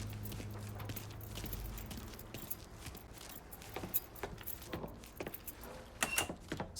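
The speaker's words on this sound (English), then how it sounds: "Hey, man, grab those keys." Keys jangle in the Mafia 3 video game, a quiet series of irregular metallic clinks and rattles that grow sharper toward the end over a low background hum.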